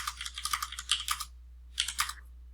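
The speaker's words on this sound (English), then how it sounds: "just by typing nope" Rapid clicking of keys on a computer keyboard in two bursts, with a short pause between them, close and quiet against a faint hum.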